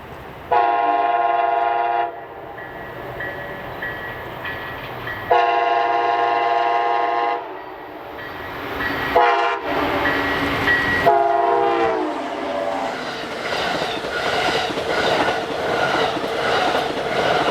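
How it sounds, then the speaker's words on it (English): A passing Amtrak Coast Starlight passenger train blasts its horn in several long, loud blares, then wheels clatter steadily along the rails as the cars roll by close. "Here came my final train of the day, Amtrak Coast Starlight number 14"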